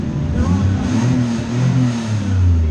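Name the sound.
Chrysler TC car engine running and revving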